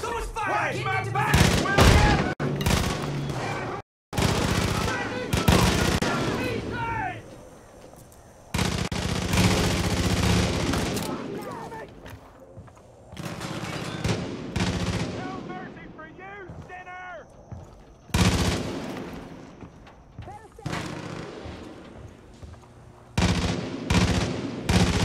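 Heavy Far Cry 5 gunfire, with loud rapid bursts and booming shots coming in dense waves, a brief gap, then more firing, while voices shout over the battle.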